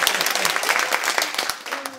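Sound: audience applause at a public broadcast

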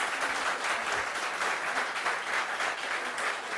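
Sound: studio applause for the mayor

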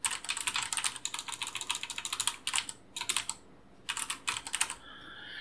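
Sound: typing a title on a computer keyboard

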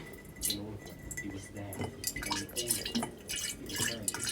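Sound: water poured into elderflower fruit drink mixture

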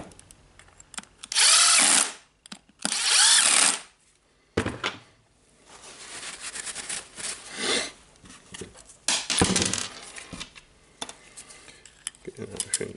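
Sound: power drill running during hammer repair

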